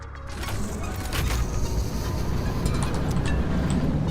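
Video game train starting up in a factory-building game, a steady loud mechanical rumble with creaking, clanking gear-like noises that builds and holds throughout, no voices.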